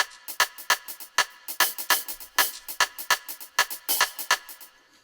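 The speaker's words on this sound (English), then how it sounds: "it's just a group of percussion instruments I play together" Layered percussion hits programmed with FPC in FL Studio for a dancehall beat, sharp bright strikes in a syncopated pattern of about four per second, steady and close, with no voices.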